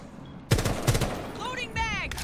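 Gunfire in Rainbow Six Siege, a sharp burst of rapid shots followed by a second crack and a tail of echoing debris, loud and close, with a brief voice mixed in.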